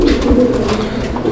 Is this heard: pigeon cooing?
yes